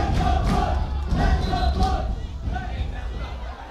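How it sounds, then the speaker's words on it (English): Excited crowd of Newport fans at a high school boys soccer match against Tillamook, a loud, continuous roar of cheering and chanting voices filling the stadium, with swells of shouting throughout. "A lot of Newport fans sitting directly below us, and they're chanting, "Let's go Cubs.""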